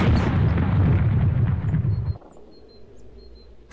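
A rocket salvo fired from an airship in Air Buccaneers roars out as a loud, sustained rumbling blast. It cuts off abruptly after about two seconds, leaving a quiet tail.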